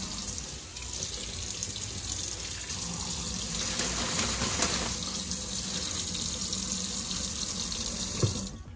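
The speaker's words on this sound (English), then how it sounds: "And now let's run it underwater and see what happens." Tap water runs steadily into a sink and splashes over an upturned inverted umbrella, a continuous close hiss and patter with no talking.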